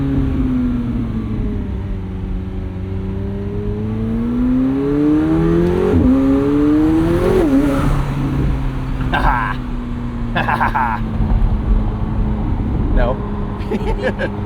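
A 2025 McLaren 750S, a 740 hp twin-turbo V8 supercar, drones steadily through a half-throttle morning commute, its note rising and falling with a couple of quick rev changes, near and loud under someone talking.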